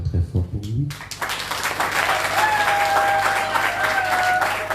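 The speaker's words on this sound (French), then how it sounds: "on acclame très fort pour lui." A church congregation at a Catholic ceremony breaks into sustained applause that swells and holds steady, following a speaker's voice at the start, with a faint tonal sound ringing through the clapping.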